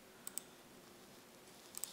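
Computer mouse clicks, two light clicks near the start and two more near the end, faint over quiet room noise.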